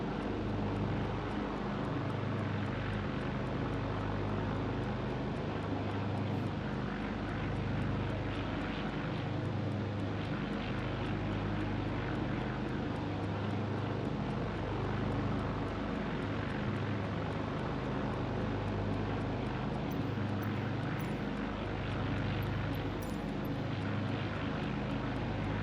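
Propeller plane engine in Microsoft Flight Simulator 2020 drones steadily and loudly for the whole stretch, a dense, constant roar with a slow pulsing throb underneath and no talking.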